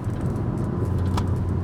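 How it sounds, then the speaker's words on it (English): An Alfa Romeo Giulia Quadrifoglio rumbles steadily from inside the car while downshifting in manual mode, with one short sharp exhaust blip rising over the constant low engine drone. "Go into manual, you get the blips and the downshift"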